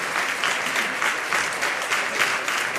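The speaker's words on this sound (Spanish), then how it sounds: "levantan ahora esos aplausos por la ciudad" More than 150 people gathered on a Sunday morning in Huelva applaud after a San Sebastián festival proclamation speech. The clapping is dense, loud and sustained, rolling in gentle surges with no talk over it.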